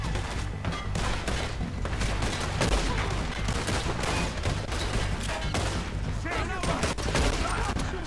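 Rapid hip-fire gunshots in the video game Red Dead Redemption 2 come as a dense, continuous barrage of loud cracks and booms lasting several seconds, with a voice partly audible under the shooting.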